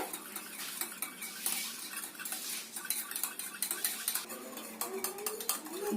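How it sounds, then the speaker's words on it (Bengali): Sour yogurt whisked in a bowl ahead of making doi panta: steady rapid clinking and scraping of a utensil against the bowl, continuous and fairly close, with no talking. "প্রথমে এই টক দইটাকে ভালো করে ফাটিয়ে নিতে হবে"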